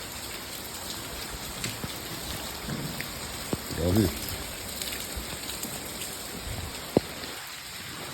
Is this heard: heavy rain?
yes